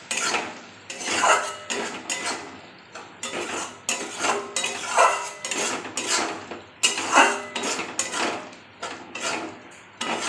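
A metal spoon repeatedly scrapes and clinks against a pan while egg curry masala with chopped tomato is stirred and fried, a steady rhythmic clatter of strokes heard alone without talking.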